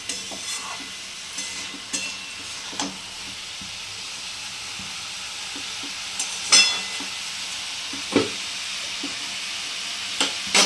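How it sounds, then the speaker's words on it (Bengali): Potato and cauliflower curry fries in a pan on a gas flame, giving a steady close sizzle broken by scattered scrapes and clicks of a stirring spoon, with no voices. "এরপরে আমি এটা একটু করে কষবো ঢাকনা দিয়ে দিয়ে কিছুক্ষণ সিদ্ধ হওয়া পর্যন্ত"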